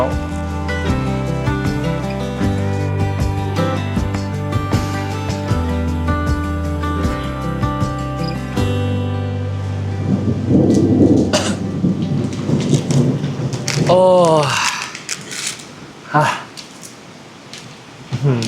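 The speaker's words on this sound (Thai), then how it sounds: "คือฝนตกฉ่ำมาก ตกชนิดที่ว่า ตกด้วยฟ้าผ่าด้วย ฟ้าร้องด้วยนะ" Heavy downpour with rolling thunder near a quiet stream in the Huay Kub Kab area of Chiang Mai, a steady loud rain hiss broken by several thunder rumbles and cracks in the later half, with harmonic music playing underneath at first.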